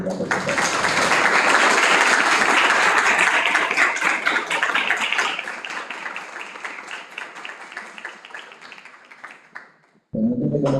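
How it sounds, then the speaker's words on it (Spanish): Audience applause at a university panel discussion, loud sustained clapping that gradually thins and fades out, followed by a brief burst of noise at the end. "A quien le damos un fuerte aplauso de primera, por supuesto."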